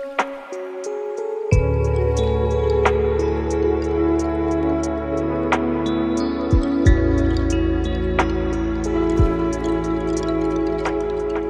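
Guitar processed with Baby Audio Transit automation plays a lush sustained texture over a deep bass pad, with bright ticking accents and occasional low hits as it sweeps into an outro, steady and loud with no talking.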